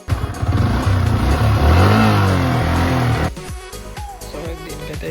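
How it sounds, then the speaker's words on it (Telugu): A Yamaha R15 V3 motorcycle with a 155cc engine starting up and revving loudly nearby, the engine note rising and falling for about three seconds before dropping to a lighter idle. "బైక్ని అయితే ఒకసారి ఆన్ చేసి సౌండ్ వినిపిస్తాను"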